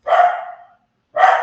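Two loud dog barks close by, the first drawn out and tapering, the second starting sharply after a short silence, with nothing else heard.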